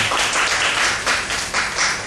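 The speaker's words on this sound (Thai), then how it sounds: "ขอเสียงปรบมือให้กับคุณวัญชา ชัยสุปัญญาครับ" A room of attendees at a business event applauds a supervisor-level businesswoman, a brief, close, continuous patter of many hands clapping.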